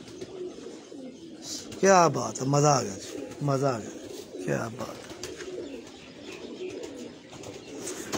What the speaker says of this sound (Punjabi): ਬੜਾ ਬਹਾਦਰ ਕਬੂਤਰਾ ਜੀ